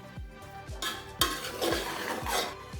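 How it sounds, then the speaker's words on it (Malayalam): Rice is stirred in a pot for soya meal-maker biriyani, a spoon scraping the metal in quick, steady strokes about three times a second, close and fairly quiet. "അരി ചേർത്ത ശേഷം നമുക്ക് നന്നായിട്ടൊന്ന് ഇളക്കി കൊടുക്കുക."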